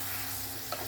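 Kerala-style mango pickle is stirred in a pan, a quiet, close scrape and soft sizzle lasting under a second with one brief louder scrape near the end.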